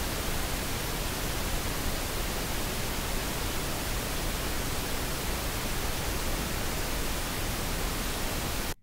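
Steady pink noise test signal generated in Studio One, a constant broadband hiss at full level running unbroken for the whole stretch and cutting off abruptly at the very end.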